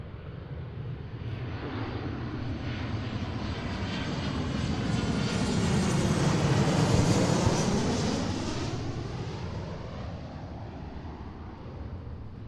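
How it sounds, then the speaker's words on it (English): An Alaska Airlines Boeing 737-800 jet flies past an airport runway. Its engine roar swells steadily, peaks in the middle as the jet goes by, then fades again, a broad rushing drone heard outdoors at moderate distance. "from San Francisco, 737-800 series. This is Alaska 1340."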